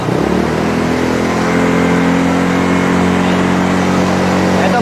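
A motorcycle with a chambered-type power pipe exhaust revs up to 5,000 RPM and holds there, a steady, loud, continuous drone with strong low harmonics, no talking over it.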